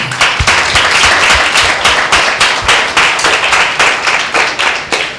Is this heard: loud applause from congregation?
yes